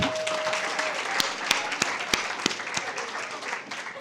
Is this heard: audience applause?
yes